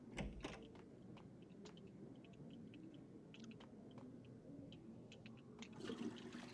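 A toilet flushes in the Max Payne video game, a steady rushing gurgle of water that runs for several seconds with small clunks and swells slightly near the end, with no voices.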